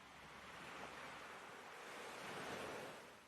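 Ocean surf washing onto a sandy beach, a steady broadband roar of breaking waves with some wind noise, swelling slightly and then easing, with no voices.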